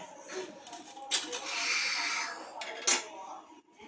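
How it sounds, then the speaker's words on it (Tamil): A knife cuts through a steamed dhokla on a plate, giving scraping strokes and a couple of sharp clinks against the dish, close and moderately loud. "இந்த மாதிரி கத்தி வச்சு கட் பண்ணி எடுத்துக்கலாம்"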